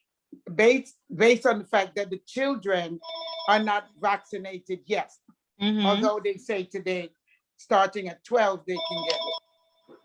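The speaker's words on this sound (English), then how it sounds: "That's my phone ringing." A mobile phone rings with repeated electronic tones, heard intermittently beneath ongoing conversation in a remote committee meeting, with voices dominating throughout.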